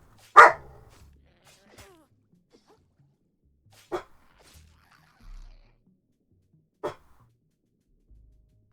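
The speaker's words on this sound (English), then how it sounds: "Thought he was done barking for a minute." A dog gives a few single barks spaced several seconds apart, the first loudest, with quiet pauses between each.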